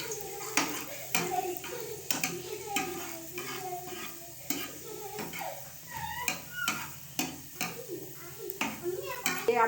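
Chopped garlic fries in hot oil in a handi pot, a steady sizzle broken by repeated clinks and scrapes of a spoon stirring against the metal, close up.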